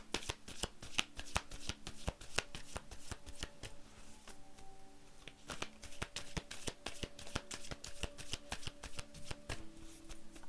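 Tarot cards being shuffled by hand, a dense, continuous run of crisp flicking and riffling strikes, close and fairly loud, with brief pauses and no talking.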